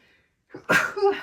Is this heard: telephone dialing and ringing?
no